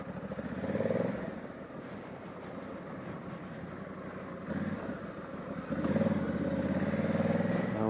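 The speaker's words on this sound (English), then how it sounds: "it's a big, heavy bike, so we're doing 3-point turns on" A 2020 Honda Africa Twin, a big, heavy adventure motorcycle, rumbles through slow three-point turns on a green lane, its engine idling and revving in low swells with a loud burst near the end.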